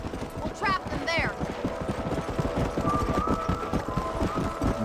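Horse hooves clip-clopping steadily in the Red Dead Redemption video game, with a horse's whinny rising early on and ambient game sounds continuing underneath.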